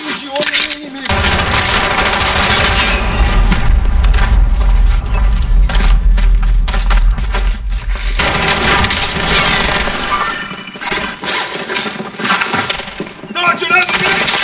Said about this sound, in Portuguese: Estão atirando aqui!